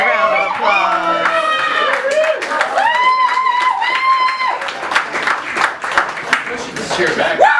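Audience at a poetry slam in an arts bar breaks into sustained applause with scattered cheers and whoops, dense clapping running throughout while voices call out over it.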